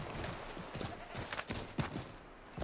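A horse clip-clops at a quick, uneven trot in Assassin's Creed 3, rapid soft hoofbeats heard faintly and close over a low, hissy ambient background.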